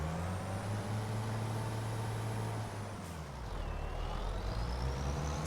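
A truck in the Farming Simulator 25 video game runs with a deep, throaty engine rumble. Partway through, a sharp hiss of air release and a shift in the engine's pitch break in before the low drone carries on. No one speaks.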